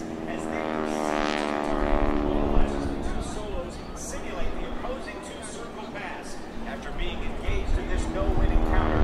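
Skytypers GEICO propeller airplanes fly over the Jones Beach airshow, their engines droning steadily, with a rising pass in the middle, while an announcer talks over the PA throughout.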